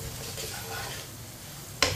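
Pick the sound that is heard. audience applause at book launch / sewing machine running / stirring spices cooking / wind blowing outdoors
stirring spices cooking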